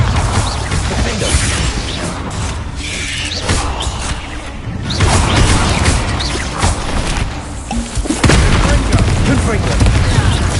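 Repeated loud, close booms and crashing impacts from spell blasts in Hogwarts Legacy combat, thick and continuous over about ten seconds, with a voice calling out spell names between the hits.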